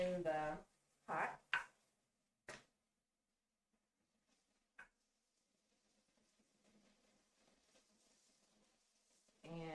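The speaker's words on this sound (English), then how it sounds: "cut the top and the tip off of the carrots, and then slice them on the bias" Knife slicing carrots on the bias on a cutting board, after topping and tailing them, in a home kitchen: a few sharp, distinct chops near the start, then scattered faint cuts and soft handling noise.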